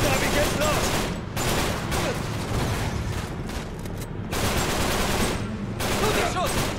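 Dense, continuous bursts of rapid gunfire and explosions from an Uncharted 3 battle, loud and sustained, with a voice briefly audible underneath.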